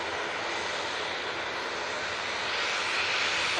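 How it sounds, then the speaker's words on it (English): A loud, steady roar of an aircraft engine running through cycles nearby at Manchester Airport, swelling slightly toward the end. "I think this is going through a few engine cycles at the moment."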